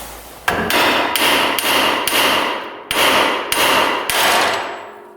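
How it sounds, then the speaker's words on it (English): A hammer strikes a metal part on a Polaris Ranger's steering assembly, seven or eight loud, ringing clanks at a steady rhythm about every half second, close up and with no voices. "Now we gotta hammer that"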